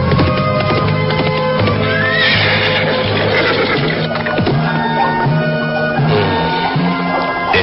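Horses neigh loudly and repeatedly over hooves in an Indonesian radio drama, riders crossing hill country at the foot of a mountain, the whinnies rising and falling close up with no voices.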